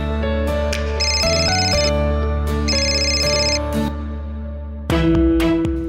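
An incoming call sets a telephone ringing in a home living room, a repeated electronic ringtone sounding in regular bursts, loud and close, with no voices over it.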